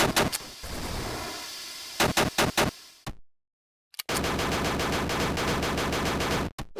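Gunfire from the player's gun in a self-made video game: sharp bursts of single shots and sustained rapid automatic fire, broken by a brief silence, loud and close.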